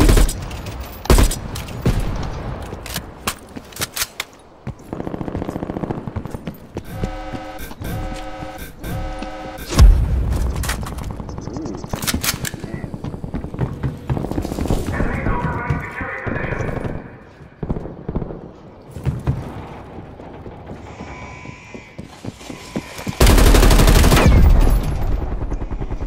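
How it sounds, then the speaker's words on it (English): Gunfire in the video game Call of Duty Black Ops Cold War during a close-range gun battle: loud, rapid bursts of automatic fire and single shots in uneven clusters, with voices heard at times. "Close-up gun battle."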